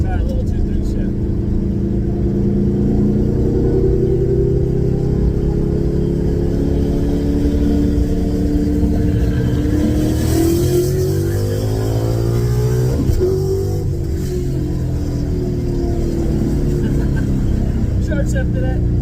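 A Coyote-swapped Ford Mustang accelerates hard, its V8 engine note rising, dipping briefly through a 2-3 gear shift, then climbing again, loud and close from inside the car with people talking over it.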